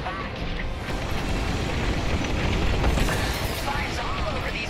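Rapid starfighter cannon fire from an A-Wing in Star Wars Squadrons played in VR, a dense continuous barrage of bursts and booms that keeps going steadily throughout.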